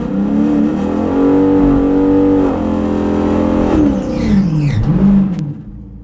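A drag racing car's engine revs at a bracket and 11.50 index event in Orlando against a 392 Shaker, a loud close rumble rising and falling in pitch before dropping away abruptly.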